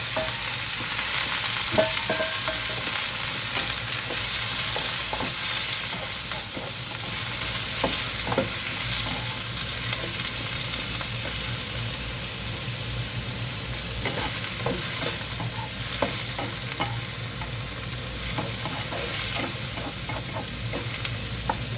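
Black tiger prawns fry in a hot pan with a steady, loud sizzle, and scattered sharp clicks and scrapes come from stirring throughout.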